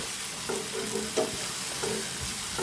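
Homemade sauce goes into a pan of Korean-style spicy ramen noodles with the spices already cooked down, giving soft stirring scrapes and a low, steady sizzle with no one talking.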